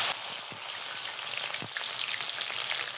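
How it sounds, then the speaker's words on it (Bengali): Chopped onions frying in a generous amount of oil for a loitta fish curry, giving a continuous close hiss and crackle with a few soft knocks and no voices. "বড় সাজার একটি পেঁয়াজ কুচি নিয়েছি এগুলো তেলের মধ্যে দিয়ে দিব"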